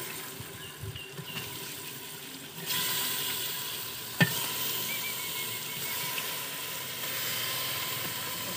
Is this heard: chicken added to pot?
yes